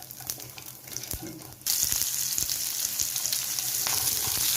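Spices with dried red chillies are tempered in hot oil for plain idiyappam: a quiet kitchen background, then an abrupt loud sizzle that bursts in and keeps crackling steadily to the end, with no talking.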